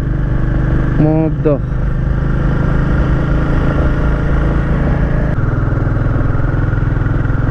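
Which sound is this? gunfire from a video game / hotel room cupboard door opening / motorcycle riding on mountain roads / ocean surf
motorcycle riding on mountain roads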